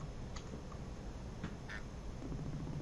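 A few short, quiet quacks from a duck in a video game, heard over a constant low background hum.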